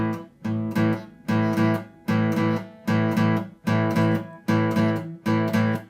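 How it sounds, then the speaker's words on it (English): Blues guitar strums an eighth-note shuffle with all downstrokes, pairs of chords falling in a long-short swung pattern, repeated steadily and played close with nothing else heard. "The shuffle is going to sound like this."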